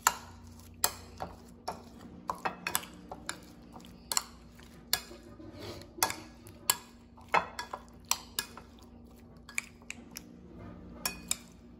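Ingredients for a paneer frankie filling, including curry leaves, are stirred in a bowl with a utensil, giving irregular close clinks and scrapes against the bowl in a loose, uneven rhythm.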